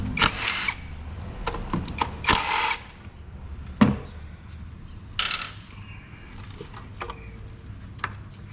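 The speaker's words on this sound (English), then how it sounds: "Remove your coil pack bolts." A ratchet backs out the coil pack bolts on a Hyundai Santa Fe, sounding as brief clicking bursts and small metallic clatters close up between quiet gaps.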